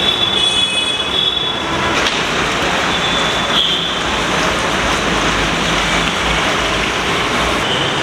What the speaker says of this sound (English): this is the Secunderabad metro station